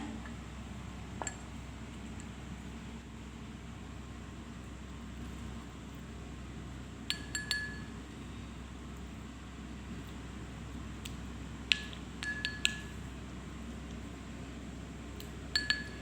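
A spoon scoops yogurt in a glass bowl, giving a few faint, scattered clinks over a steady low background hum.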